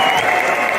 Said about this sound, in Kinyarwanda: amashyi yacu cyane